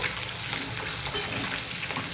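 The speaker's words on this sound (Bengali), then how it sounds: "দিয়ে নাড়াচাড়া করে নিচ্ছি ভালোভাবে নাড়াচাড়া করে নিয়ে" Salted vegetables fry in a wok, giving a steady, close sizzle with stirring and scraping all the way through. No one speaks.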